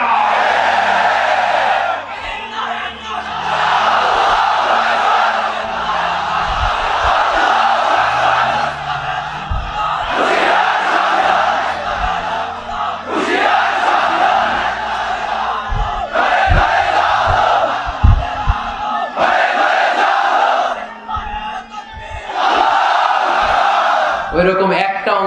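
A large crowd at a religious sermon shouts back loudly in repeated roaring bursts, several long swells of massed voices with short gaps between them, mixed with a preacher's amplified speech.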